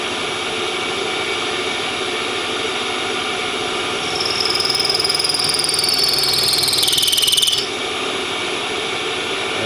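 Small machine spinning at about 1100 RPM while cutting a brass fusee for an English skeleton clock. A steady close whine runs throughout, and a high tonal squeal from the cutting rises and falls midway before stopping.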